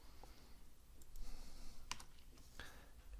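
Keys clacking on a computer keyboard while code is typed in, a few quiet, scattered clicks over a faint steady background hum.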